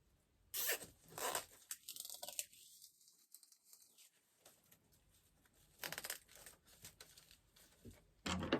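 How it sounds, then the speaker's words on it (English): Zip tie ratcheted tight while fastening styrofoam into a grapevine watermelon basket, heard as a few brief, close ratcheting zips with rustling handling between them and no talk. "Then I'm going to add one more zip tie to it."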